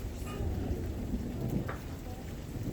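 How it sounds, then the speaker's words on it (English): Steady rain falls during a thunderstorm, with a faint low rumble of thunder under it and occasional drops landing close by. The sound is quiet and heard from outdoors. "still storming here."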